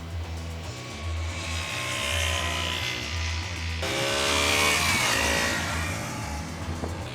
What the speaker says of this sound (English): How's that for a 125cc motorcycle?